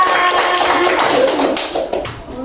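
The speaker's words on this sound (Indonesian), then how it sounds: "Tepuk tangan untuk kelompok 2." A classroom of students claps for a group that has just finished its presentation, with dense, overlapping handclaps that are fairly loud and close and continue steadily before thinning slightly toward the end.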